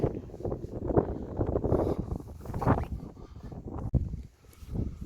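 Gusty wind blows across an abbey ruin outdoors, giving a soft, fluttering rumble that rises and drops in irregular pulses, fairly quiet, with no voices.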